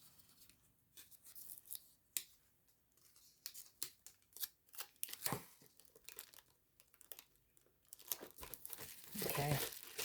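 Crinkling and tearing of a sticker being peeled from its backing and pressed onto a handmade lemon-themed 3D purse, close and intermittent with soft rustles, while someone talks over it.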